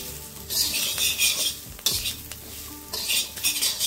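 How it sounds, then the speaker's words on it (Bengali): Cashews and raisins frying with black pepper powder are stirred in a pan, a spoon scraping and clinking against the metal over a steady close sizzle, with no voices. "গোলমরিচ গুঁড়োটা দিয়ে এখানে 30 সেকেন্ড নাড়িয়ে নিলাম"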